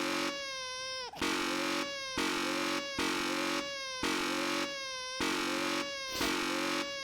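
A baby cries in The Stanley Parable video game: a loud, repeated wailing cry in steady bursts about a second long, each separated by a brief catch of breath.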